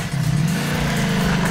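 A Ducati Multistrada V4 RS motorcycle engine runs with a fairly quiet exhaust. It holds a steady, low hum close by, with a slight pitch rise partway through and no voices.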